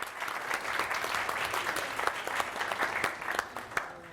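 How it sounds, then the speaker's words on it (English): An audience claps for a group of volunteers, with dense overlapping claps forming a sustained round of applause, some sharper individual claps standing out, and faint crowd murmur underneath. "let's give them a round of applause."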